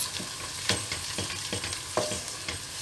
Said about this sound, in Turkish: Kavrulan soğana 1 yemek kaşığı kadar salçamız vardı. Onu da güzelce karıştırıyoruz.